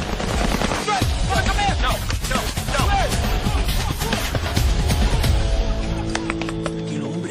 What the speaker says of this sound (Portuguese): Nem demorou pra ter tiroteio.